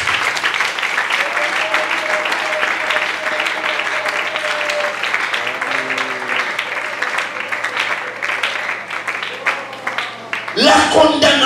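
A church congregation applauds and cheers, broadband clapping running throughout with voices and calls mixed in, a louder burst near the end.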